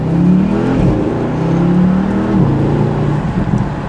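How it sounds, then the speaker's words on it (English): A 2020 Porsche Panamera engine sounds loud and close while driving, a strong, steady drone that rises and drops in pitch as the revs change, with no talking over it. "one thing that I could say that I am really enjoying about the Panamera is the sound"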